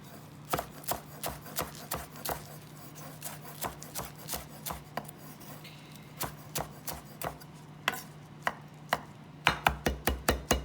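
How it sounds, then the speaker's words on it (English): Knife chopping fresh flat leaf parsley on a cutting board for a quiche garnish: irregular, crisp close-up taps that come faster in a quick burst near the end, with no talking. "we have some fresh flat leaf parsley here, which we're going to chop up"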